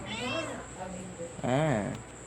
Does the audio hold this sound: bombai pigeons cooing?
no